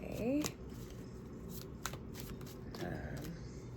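Tarot cards shuffled in quick riffling bursts at the start, then scattered soft card taps and slides, close and moderately loud, with a voice speaking faintly in the background.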